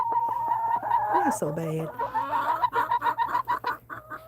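Chickens on a snowy homestead cluck and squawk close by in quick, uneven bursts, with a person speaking briefly over them.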